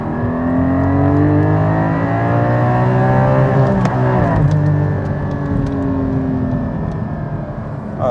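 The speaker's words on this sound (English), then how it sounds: "Hit that rev limiter" A Porsche 718 Cayman GT4 accelerates hard from inside the cabin, its engine note climbing steadily through the gears to the rev limiter, loud and continuous with a brief dip between shifts.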